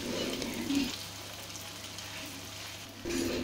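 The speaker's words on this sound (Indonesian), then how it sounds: "Kita akan tumis terlebih dahulu bumbu yang sudah kita haluskan tadi." Ground spice paste for asam pedas fish fries in hot oil in a pot. It makes a steady, close hiss of sizzling with soft stirring noises and no speech.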